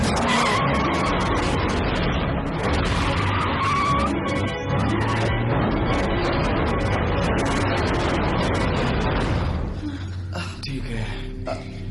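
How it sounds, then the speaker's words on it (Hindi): A car revs hard and skids away with a long, loud tire squeal and roaring engine, continuous for most of the scene before fading out; a voice speaks over it. "अब जल्दी से गाड़ी स्टार्ट कर।"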